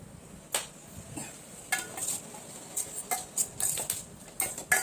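A spoon works cooked rice with oil and salt in a vessel for lemon rice, producing soft scraping and irregular clinks of metal against the pot, close and fairly quiet.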